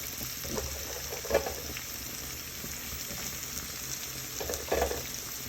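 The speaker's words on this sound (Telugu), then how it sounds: "కొంచెం మీకు ఇలా మధ్యలో ఇలా జరిపేసి ఉల్లిపాయలు వేసుకోవాలి" Onions frying in oil in a pan for a bitter gourd curry, a steady soft sizzle with a few brief stirring scrapes, close and moderately quiet, no voices.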